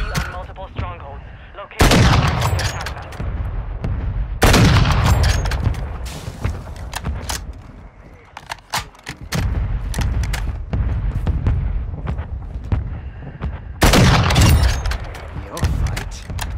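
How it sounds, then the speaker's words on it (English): Explosions from a mortar strike and bursts of gunfire in the Warzone 2 video game. Heavy booms land at intervals among a steady rattle of shots, loud and close, with talk mixed in. "Mortar strike on the way."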